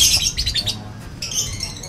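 Caged lovebirds chirp in quick, shrill bursts close by, with brief pauses between the flurries of tweets.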